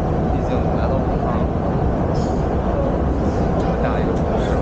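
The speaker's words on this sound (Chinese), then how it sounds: "现在上了地铁" Inside a moving Wuhan subway train, a loud, steady rumble of wheels and car noise runs continuously without any break.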